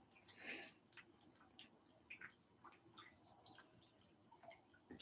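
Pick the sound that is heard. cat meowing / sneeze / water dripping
water dripping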